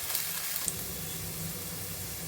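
Paneer frying in oil or ghee in a pan for a vegetable pulao, giving a steady, soft sizzle and hiss that runs without a break through the whole moment, with no voice over it.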